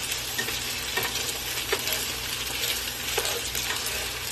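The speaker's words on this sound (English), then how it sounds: "after stirring it up a whole lot and giving it a while to cook" Ramen-style noodles sizzle in a pan while being stirred, a steady close frying hiss broken by occasional scrapes and clicks of the utensil.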